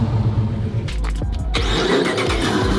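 A 5.7 Hemi V8 in a custom build revs loudly nearby, a heavy low rumble that swells in a couple of sharp blips over steady engine drone.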